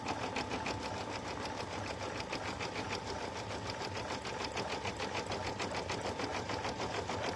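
An embroidery machine stitches a tack-down pass to secure puff foam for an in-the-hoop bag, a loud, steady rapid needle chatter running continuously up close with no voices.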